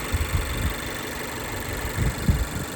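A 2013 Mazda 3 hatchback with 85k miles idles steadily, a low, even engine rumble with a couple of slightly louder pulses near the end and no talking over it.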